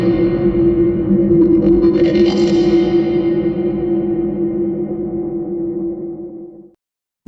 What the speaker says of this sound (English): that's very typical reverb impulse response